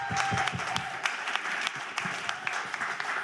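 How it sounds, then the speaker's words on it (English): Audience applause at a science comedy debate, a dense wash of many hands clapping steadily and fairly close, filling the short stretch with no voices on top. "A round of applause for Ju."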